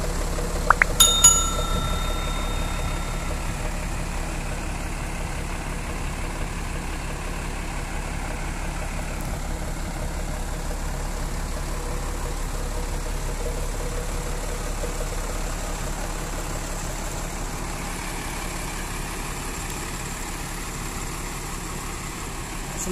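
A large bus engine idles at a bus terminal with a steady, low exhaust rumble from an aftermarket exhaust that drones on throughout, with a brief metallic ping near the start.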